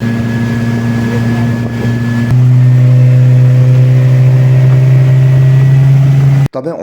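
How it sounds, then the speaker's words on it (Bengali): A speedboat on Patratu Lake runs with a steady, loud engine drone that steps up in pitch partway through as it accelerates, then cuts off briefly near the end. "এই পাতলাতুর ওপর স্পিড বোটিংয়ের রোমাঞ্চকর অভিজ্ঞতা একবার শুধু দেখুন"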